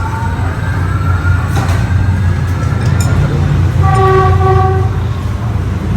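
A train horn toots in a few short blasts over steady low rumbling of a passing train near Taling Chan station in Bangkok, with faint voices nearby.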